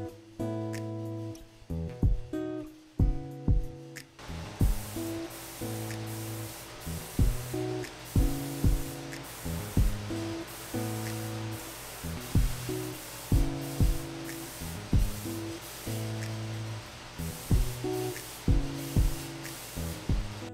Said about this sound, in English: So I'm gonna get the Cerakote ready to go and we can start spraying.